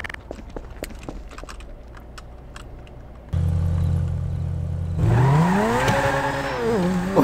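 A car with a welded-on seat in Garry's Mod: quiet clicking and shuffling give way to a loud steady engine drone, then a higher revving whine that rises and wavers up close.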